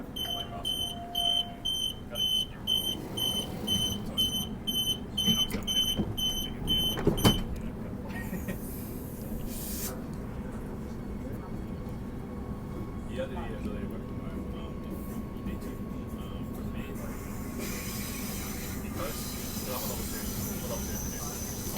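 A Perth suburban train's door-closing warning chimes beep in a rapid repeating pattern, followed by a thud as the doors shut, then the train departs with a low rolling rumble and faint wheel squeal, while an onboard announcement voice speaks.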